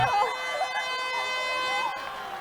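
A long, steady full-time siren sounds at a women's rugby quarter-final between Melbourne and another university side, holding a level tone over crowd noise and a commentator talking.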